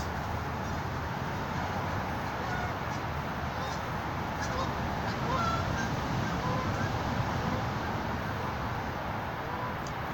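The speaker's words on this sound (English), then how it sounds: "Geese falling over. Noisy bastards." Geese honking along a park stream, the calls scattered and mid-distance over a steady wash of background noise, with no talking.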